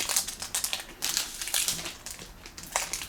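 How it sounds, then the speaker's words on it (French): The foil wrapper of a Pokémon card booster pack crinkles and tears in quick, uneven bursts of crackling, close and alone. "J'ai toujours du mal à ouvrir ces boosters."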